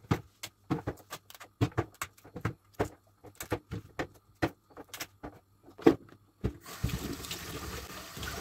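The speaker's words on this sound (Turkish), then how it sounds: "Karnabaharlarımızı iri iri ayırıp yıkıyoruz." Large cauliflower pieces are rinsed in water by hand, making a series of short splashes and knocks close by, followed by a steadier wash of running water at the end.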